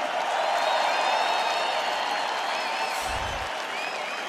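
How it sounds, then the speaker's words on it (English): Large arena crowd at a UFC featherweight title fight applauding and cheering steadily, a dense wash of clapping that holds loud for the whole stretch with no voice over it. "Crowd, give it up for these guys for one of the best featherweight title fights we've ever seen"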